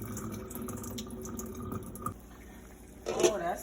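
Rice being rinsed under running tap water in a sink, a soft steady trickle and splash that swells briefly louder near the end, faint and close with a voice talking over it.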